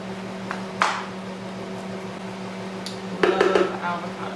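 Blender mixing raw pizza ingredients such as buckwheat, apple and avocado, a steady droning motor hum throughout with a few short clattering bursts near the start and end.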